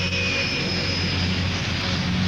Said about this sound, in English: At 12:30, the plane departs.